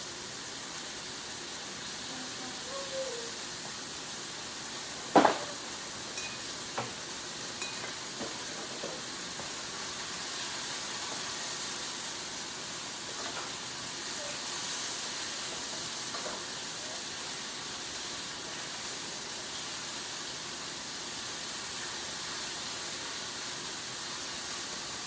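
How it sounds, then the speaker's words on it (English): Food for a stuffed fish dinner sautéing in a pan, giving a steady, moderately loud hiss and sizzle that lasts throughout, with one sharp clink near the start and a few faint knocks. "I'm gonna let those saute for a little bit before I add my onions."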